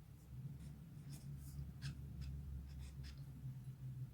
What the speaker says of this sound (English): let me write down the function.